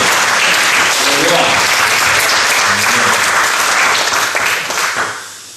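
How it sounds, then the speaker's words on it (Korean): Steady, loud applause from a church congregation offering glory to God holds for about four seconds and then tapers off quickly, with a speaking voice faintly beneath the clapping. "한번 우리 영광의 박수 하나님께 올려드립니다"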